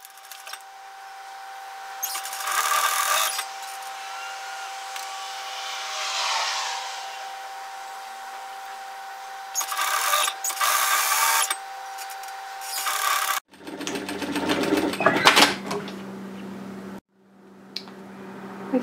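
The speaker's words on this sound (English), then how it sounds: "we're going to sew the shoulder seam together at 1 centimeter, which is 3/8 of an inch." Sewing machine stitching a 1 cm shoulder seam on a lounge top, running in several bursts of whirring stitching separated by quieter pauses, close and fairly loud.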